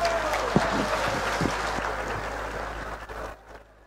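Party workers at a political gathering clap to welcome their founder president, a dense wash of crowd applause that holds steady and then thins out toward the end.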